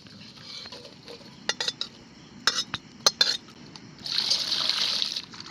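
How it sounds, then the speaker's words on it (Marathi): Lentils for vajri dal are washed in water in a pot. A few sharp clinks come first, then a steady burst of sloshing, splashing water near the end, close and moderately loud, with no talking. "परत चांगले दोन तीन पाण्याने धुवून घेणार आहे मी"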